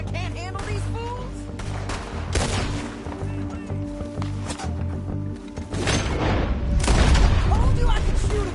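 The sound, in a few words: gunfire in Red Dead Redemption 2 video game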